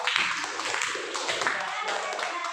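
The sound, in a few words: clapping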